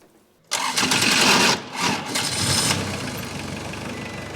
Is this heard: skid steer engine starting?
yes